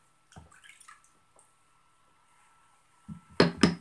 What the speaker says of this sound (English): rinse the stone and the razor in clear water